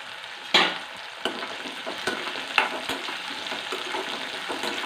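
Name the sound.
curry leaves sizzling in hot oil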